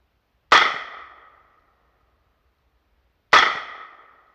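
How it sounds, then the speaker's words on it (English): Two sharp rifle shots from a Smith & Wesson M&P 15 in 5.56×45 NATO crack out about three seconds apart outdoors at a penetration test, each a loud close report with a short decaying tail and silence between. "Okay, 2 shots on the left."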